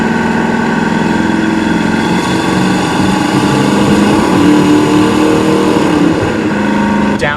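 A 1973 Pontiac Firebird Formula 400 with aftermarket dual exhaust and a Flowmaster muffler rumbles steadily and loudly throughout, a continuous low engine drone with no break.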